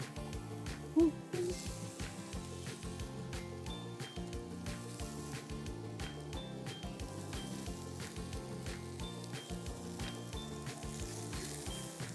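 Vegetables and zucchini stir-fry in a hot pan, with a steady close sizzle and occasional stirring clinks, while someone talks over it.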